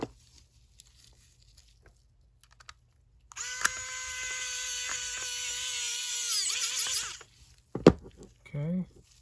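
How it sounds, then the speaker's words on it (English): An electric screwdriver driving screws into an animated Gemmy Santa figure under repair, a steady high whine running for about four seconds and then cutting off, followed by a brief clack and a short rising burst. "We'll speed this process up with an electric screwdriver."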